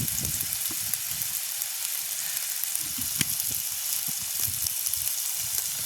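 Peanut curry sizzles in a pan at a village outdoor kitchen, with a constant bright hiss and soft, irregular scraping and bumping as it is stirred.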